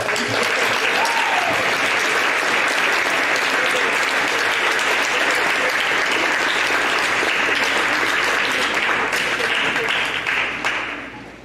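Large audience at a school coronation ceremony breaking into loud, sustained applause, dense clapping from many hands that holds steady for about ten seconds before starting to taper off.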